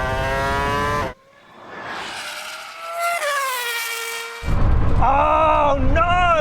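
An F1 car racing McMurtry Spéirling and Rimac Nevera hypercars: high engine whine that cuts out, then rising electric-motor and gear whines climbing in pitch, then a loud harmonic engine tone returning close, with no speech over it.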